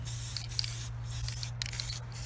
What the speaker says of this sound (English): And just spray it on the helmet.